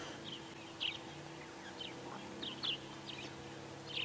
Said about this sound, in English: More and more doves are waking up. Lots of little sparrows calling from everywhere where there's a tree hole that they can nest in.